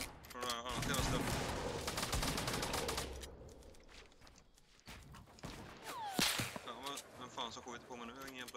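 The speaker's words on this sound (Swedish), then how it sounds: "Jag blir skjuten från den här andra stället." Rapid bursts of gunfire from the video game Fortnite crack out in dense volleys for the first few seconds, then scattered single shots and game effects follow, loud and close, with a player's voice talking over parts of it.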